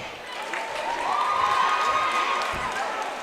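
A crowd cheers in a high school basketball gym, a steady swell of shouting voices that rises and holds for a few seconds at moderate distance.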